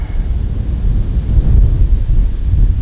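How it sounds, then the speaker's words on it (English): Wind buffets the microphone outdoors during a golf round at Royal Johannesburg Golf Club, a steady low rumbling roar throughout with no voices. "Getting windy out here"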